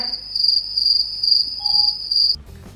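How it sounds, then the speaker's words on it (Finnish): Grasshoppers chirp in a loud, high, continuous trill broken by brief pauses, close and without voices, before cutting off abruptly near the end. "sainko heinäsirkkojen siritystä"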